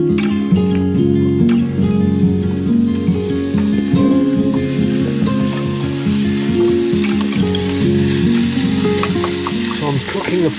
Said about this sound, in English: So I'm cooking a paella